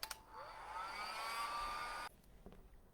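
A hair dryer runs to dry acrylic paint on a landscape painting, starting with a click and rising whine, blowing steadily for about two seconds before cutting off abruptly, followed by faint handling noises.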